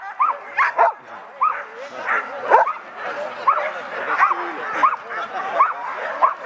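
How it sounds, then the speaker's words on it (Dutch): A Spanish water dog at a dog sporting event in Assen barks and yips repeatedly in quick, uneven bursts, fairly close, with voices of people in the background. "Dat is, een Spaanse waterhond."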